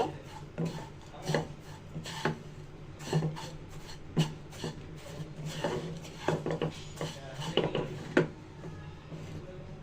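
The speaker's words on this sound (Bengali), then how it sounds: "গুঁড়া দুধ চিনি সেমাই একসাথে ভেজে নিব সেমাইটা নাড়াচাড়া দিয়ে" Vermicelli fried with ghee, milk powder and sugar for nawabi shemai is stirred in a pan, giving soft irregular scraping and tapping strokes at close range over a faint background, with no talk.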